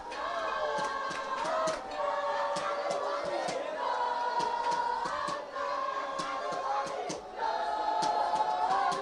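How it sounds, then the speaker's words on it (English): A rugby crowd at a club derby, Progress RFC against Buffaloes, sings and chants together in loud, sustained waves with a clear tune and clapping, near and full. "And the crowd roars"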